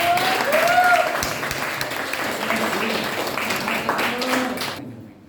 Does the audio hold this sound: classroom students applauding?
yes